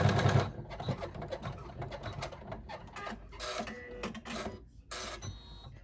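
Sewing machine running as the presser foot glides over tape on a stocking zipper bag, a steady mechanical whir and rapid needle clatter filling the whole stretch with small pauses and changes in pace.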